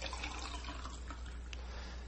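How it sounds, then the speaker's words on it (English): Twelve ounces of water pours into sugar as a soda-sized mix is made, a steady trickling splash that runs continuously and fairly quietly over a low hum. "Then you add 12 ounces of water"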